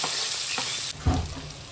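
Asafoetida and green chillies hit hot oil for a tadka with cumin, a bright steady sizzle that jumps into a louder burst of spitting and crackling as the chillies drop in, close by with no talk.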